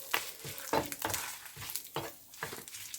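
Dried chilies and curry leaves frying in oil for idli podi, a soft crackling sizzle broken by repeated scrapes and stirs of a spoon in the pan, close and fairly quiet.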